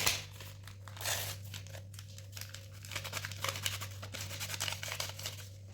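Someone opens and handles a plastic sachet of instant yeast, producing crinkling, crackling and tearing sounds in short uneven bursts over a low steady hum.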